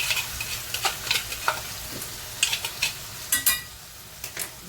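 Mango chutney sizzles gently in a pan over a low gas flame, with repeated sharp spoon scrapes and stirring clinks against the pan rising above the steady frying hiss.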